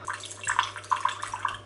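Tap water is poured during work on a Honda CB250RS motorbike. It makes a soft, uneven splashing trickle with small bubbly plops, moderately quiet and with no voices.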